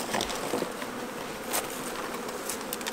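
Honey bees buzz steadily and up close around hive frames in a bee yard during swarm-prevention work, a dense continuous drone with no voices over it.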